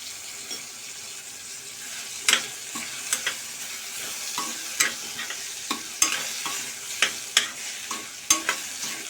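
Turmeric sizzles in hot oil for a Kolhapuri-style chana dal dish as a spoon stirs and scrapes the pan, with a continuous close fry hiss broken by regular clinking strokes.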